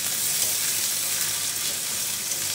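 Onions fry in a pan toward browning, a dense, even sizzle held close and loud for the whole short stretch, with no voices.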